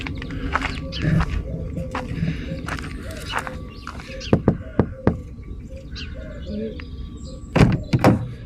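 Knocking on the side of a camper van parked outdoors in Wales, a few sharp raps in a quick cluster and then another pair, heard over faint background noise and rustling.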